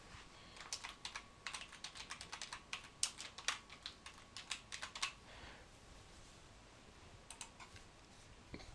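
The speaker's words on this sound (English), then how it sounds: "you type into the search box" Quick bursts of typing on a computer keyboard, crisp close-up key clicks in uneven runs, pausing briefly before a final short flurry, with no voices.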